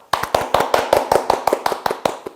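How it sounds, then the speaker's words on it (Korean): A few people clap hands together in a quick, steady rhythm of about a dozen sharp, close claps lasting roughly two seconds. "일단 박수부터 칠까요?"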